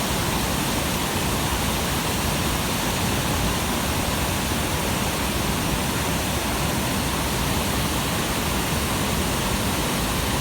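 Water pours over the dam at Natural Dam, Arkansas, a loud, unbroken broadband rush with no rhythm or pauses and no voices.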